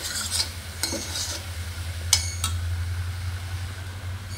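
Spice mixture for olive pickle being stirred in a pan, with several sharp scrapes and clinks of a spoon against metal over a low steady hum, close and moderately loud.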